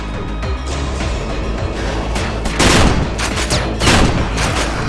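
Grenade launcher blasts and rocket fire from a video game boom and crackle in a dense, continuous barrage, with louder explosions bursting through near the middle and end, loud and close throughout with no voices.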